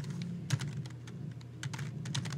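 A folder name is typed on a computer keyboard in a quick run of soft, close key clicks, with brief pauses between short bursts and no talking.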